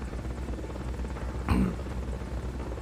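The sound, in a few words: helicopter in Metal Gear Solid: Peace Walker video game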